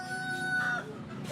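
Native village chickens (ayam kampung) sold as a Lebaran holiday dish give a short crow mixed with clucking. The sound is brief and moderately faint, as if from a nearby coop.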